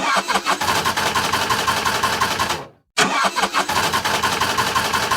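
A cartoon vehicle's engine runs loud and close with a rough, sputtering rhythm, cuts out abruptly to silence partway through, then sputters back.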